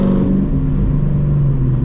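Ford Mustang GT on Michelin Pilot Sport tires accelerating, a steady loud low engine rumble with a deep drone throughout, heard from close range without any talk.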